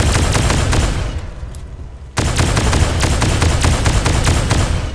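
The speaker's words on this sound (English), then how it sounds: "we're gonna use a charger pistol for this" Charge pistol fired in Fallout: New Vegas, a loud, dense barrage of rapid energy shots that breaks off briefly, then resumes just as fiercely and continues without pause.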